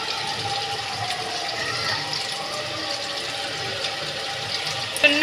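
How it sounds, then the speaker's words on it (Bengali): Mustard oil poured into an empty wok, a soft continuous liquid pour with faint trickling and a brief clink at the end, quiet and close in a kitchen. "খালি কড়াই বসিয়ে দিয়েছি, কড়াইতে দিয়ে দেবো সরষের তেল।"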